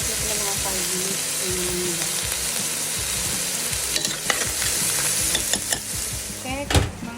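Squash, long beans, petchay and eggplant cook in a pan, giving a steady close sizzle with intermittent clinks and scrapes of stirring throughout.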